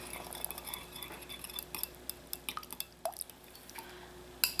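Milk, vinegar and vanilla being mixed in a bowl, with quiet, irregular clinks and taps of a utensil against the bowl and faint liquid sounds, close but soft.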